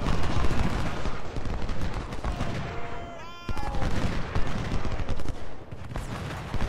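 Musket volleys and artillery fire in the Ultimate General: Civil War strategy game, a dense, continuous crackle of rifle shots with booming cannon, loud throughout and briefly dipping midway, with a voice talking over part of it.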